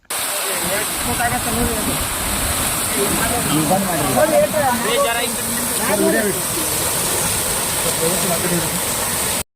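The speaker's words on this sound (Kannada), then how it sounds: "ಕೆಲವು ಬೋರ್ವೆಲ್ನಲ್ಲಿ ಬಾವಿಯಲ್ಲಿ 30 ಅಡಿಯಷ್ಟು 15ರಿಂದ 20 ನಿಮಿಷ ನೀರು ಹೊರತುಮ್ಮುತ್ತಿದ್ದು" Water gushes up out of a recharged farm borewell in a loud, continuous rushing roar like a waterfall, steady from start to end with no voices.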